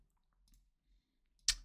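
Single sharp computer mouse click placing a point on drone imagery, a brief bright burst near the end after near silence.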